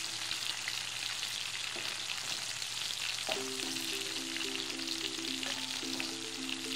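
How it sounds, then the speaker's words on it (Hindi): Salted cauliflower pieces frying in hot oil over a high flame, a continuous close crackling sizzle with a faint tonal hum beneath, no voices. "तो हाई फ्लेम में मैं गोभी को फ्राई कर रही हूँ"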